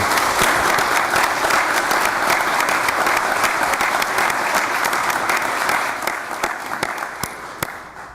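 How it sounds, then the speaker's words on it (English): An audience at a Kenosha County Board meeting applauds county employees, a loud, dense burst of clapping that thins in the last seconds into scattered individual claps. "give a round of applause for our Kenosha County employees"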